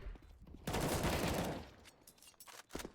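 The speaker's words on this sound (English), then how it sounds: "Scar responding with a headshot onto Feltner." A rapid burst of automatic gunfire in a competitive esports shooter match, a loud dense volley lasting about a second, followed by a few fainter scattered shots.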